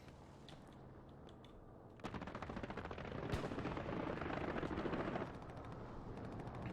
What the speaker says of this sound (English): It looks like the Germans attempted to go for a strafing run, but there is nobody there to kill